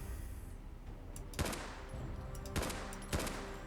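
A modded sniper rifle in Fallout 4 fires a few sharp, close shots in quick succession, each with a bright crack and a short decaying tail, over a low steady background hum.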